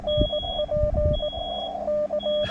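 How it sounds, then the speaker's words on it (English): A smoke alarm in a camper, set off by cooking, beeps in a steady repeating pattern of short high tones, heard indoors alongside some low background rumble and no talking. "Somebody's cooking done set off the smoke alarm in the camper."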